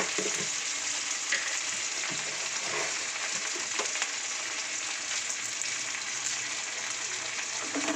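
Vegetable pulao ingredients frying in a pan after paste and salt are added: a steady close sizzle with occasional scrapes from stirring, without speech.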